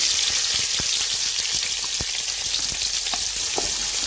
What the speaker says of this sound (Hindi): प्याज को हम गोल्डन फ्राई करेंगे।